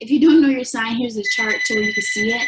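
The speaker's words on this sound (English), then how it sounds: "excuse the phone ringing in the back." A telephone rings in the background of a room, its electronic trill running high and steady beneath continuous close talking by a woman.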